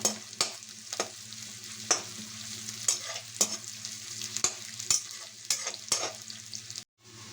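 Garlic fries in a pan with a continuous hissing sizzle and regular spatula strokes clacking against the metal roughly every half second, close and clear, with no talking and a sudden cutoff at the end.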